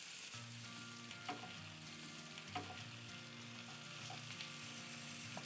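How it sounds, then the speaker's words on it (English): Potatoes and onions fry in a pan while being stirred, giving a soft, even sizzle with occasional light scraping taps from the stirring. "now I just have to stir and start cooking the potatoes and onions"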